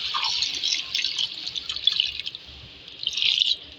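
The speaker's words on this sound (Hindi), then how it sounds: "इसमें पानी ऐड करेंगे 3 गिलास पानी डालेंगे" Three glasses of water pour into a pot of beef bhuna with green chillies, a continuous bright splashing rush that eases off midway and then swells again, no talking.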